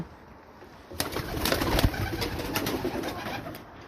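Tumbler pigeon, a young bird about two and a half months old, released from a coop in Belgium, with wing flaps and flutter bursting up after a quiet start, plus brief cooing nearby.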